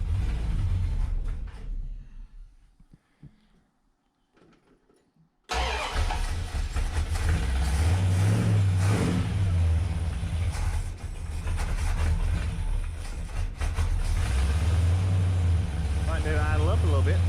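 Dodge Coronet small-block V8 with an Edelbrock carburetor cranks and catches after a brief silence, then rumbles loudly at idle and revs up and down, with someone talking over parts of it.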